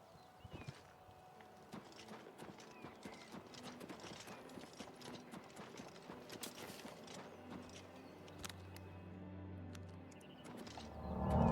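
Horse hooves clip-clop steadily in the video game Oblivion Remastered, a continuous, even gait of moderately quiet hoof strikes with a low rumble building near the end.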